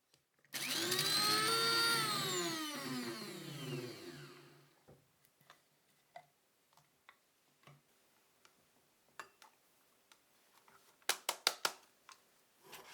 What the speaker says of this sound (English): Blend it into powder.